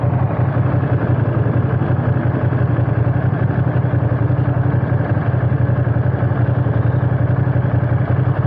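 A Ducati Panigale V2 motorcycle engine idles close by, a loud, steady low rumble with an even, rapid chugging pulse and no pauses.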